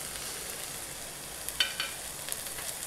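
Chicken heart skewers sizzle in a frying pan, a steady soft hiss of frying with a few brief louder crackles and pops, no talking.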